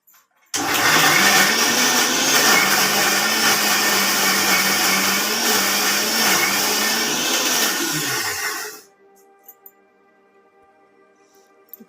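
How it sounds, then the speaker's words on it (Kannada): Mixer grinder blending a sambar paste, a loud steady whirring roar that starts abruptly, runs about eight seconds and winds down to silence. "ಈಗ ಇದನ್ನು ಮಿಕ್ಸಿಗೆ ಹಾಕ್ಕೋತೀನಿ."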